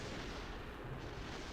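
In Kerbal Space Program, a probe crashes and explodes in a dense, roaring burst of blast noise that fills the whole short moment at a low, muffled level.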